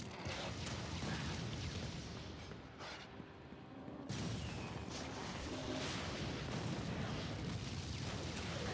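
A fire attack in the Torchlight 2 video game roars as a dense, continuous blast of flame and explosive rumble, loud throughout, with a brief dip midway before it surges again.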